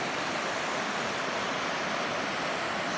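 Rain falls steadily at Horse Camp beside the Middle Fork of the Snoqualmie River during a storm, a dense, even hiss with no breaks and no voices.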